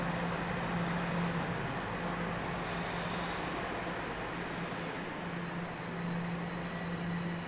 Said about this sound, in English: So that would be a southbound train that just pulled into the station.